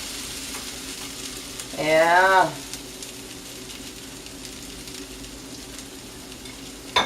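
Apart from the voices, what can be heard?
butter sizzling in a frying pan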